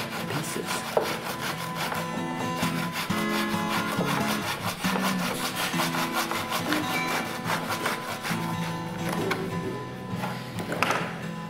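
A saw blade slices thin 2 mm pieces from glued plywood stock for rosettes, a steady, rapid rasping cut with continuous rubbing strokes and occasional taps, close and without talk.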